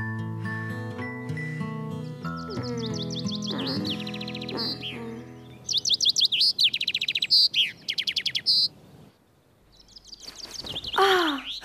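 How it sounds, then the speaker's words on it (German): A small cartoon bird chirps and sings in quick bright trills, joined by a jaunty musical score, with a burst of busy tweeting near the end. "Der kleine Vogel singt aber schön."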